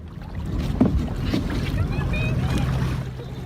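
A small boat carries a rescued dog to the river shore. Wind buffets the microphone and water churns against the hull, with a low steady motor drone and a voice speaking faintly in the background.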